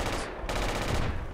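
Rifle fire in the military video game Project Reality, a dense, loud burst of rapid shots packed into a second and a half.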